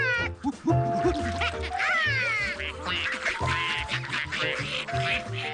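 Ducks quacking loudly and close by, a busy overlapping chorus of repeated nasal calls that continues without pause.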